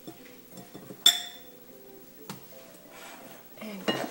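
Bowls are picked up and set down on a kitchen counter, giving a few soft clinks and one bright ceramic knock among light handling clatter, with a person talking.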